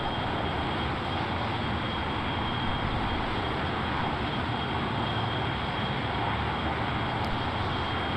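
Small aircraft engine droning steadily in flight low over a river, a dense continuous buzzing roar close and even throughout, with no voices.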